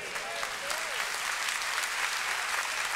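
Steady applause fills a church during a Portuguese-language Christmas sermon, a dense wash of clapping from the congregation that carries on evenly for the whole stretch.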